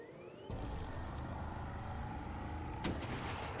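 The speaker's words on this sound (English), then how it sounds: "I didn't know she'd still shoot rockets" Rockets fired by a boss in a video game boom in a sustained, dense barrage, with a sharp louder blast near the end.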